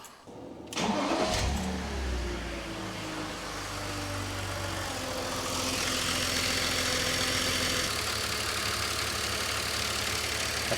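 BMW E46 330i with M54B30 straight-six cranks and fires up with a short starter whir, then settles into a steady close idle that runs on for about ten seconds, a faint rattle possible from the DISA valve area.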